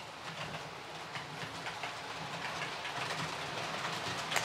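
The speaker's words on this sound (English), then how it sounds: "the train's departed the station" An OO gauge model train pulls out of a model Milton Keynes station with a steady rolling rumble and faint rhythmic clicking across the track, fairly close and without talk.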